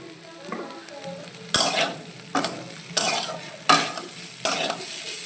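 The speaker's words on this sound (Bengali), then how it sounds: "দিয়ে এভাবে নেড়ে আরও কিছুক্ষণ ভেজে নেব" Potato and cauliflower pieces frying in a pan with chili powder, a constant sizzle punctuated by about five loud, regular spatula scrapes and clanks as the mix is stirred.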